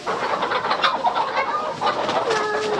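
A flock of 17-week-old farm chickens clucking and chattering continuously, fairly loud and close, with overlapping calls throughout.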